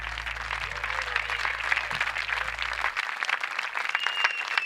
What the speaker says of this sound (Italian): Un applauso anche per il service della Rock House